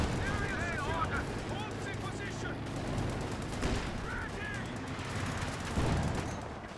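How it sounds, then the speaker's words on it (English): Artillery barrage from a BT-7 in the World War II strategy game Company of Heroes 2, heard as dense, continuous rumbling battle noise with scattered gunfire and blasts throughout, loud and busy with no clear pauses. "We have the big old barrage coming down here from BT-7."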